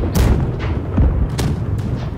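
Ship cannons boom in a naval battle in Blackwake, with several heavy shots fired in quick succession at close range, each one a sharp blast trailing into rumble.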